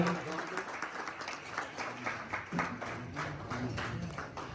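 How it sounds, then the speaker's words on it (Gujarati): An audience at a temple religious gathering applauds, a steady patter of many hands clapping at moderate volume with voices murmuring underneath throughout. "જોરદાર તાળીઓ વધારજો આજના યજમાનોને"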